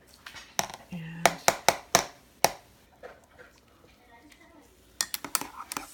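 A spoon clinks sharply against the sides of a large coffee cup in quick uneven strokes, then pauses, then rattles again in a rapid burst. Soft handling noise fills the gap between the clinks.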